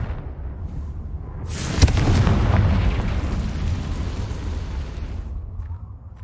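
A Confringo fire spell explodes in Hogwarts Legacy, one sharp crack followed by a loud, rolling boom that rumbles on for several seconds before fading.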